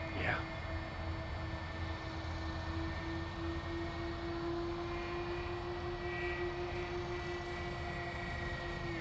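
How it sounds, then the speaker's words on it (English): A DH-84 Dragon electric twin-engine model biplane flies overhead, its motors giving a steady, even whine that holds across the whole stretch with a slight beating between the two motors, heard outdoors at moderate distance with no talking. "there's engine sound almost in tune"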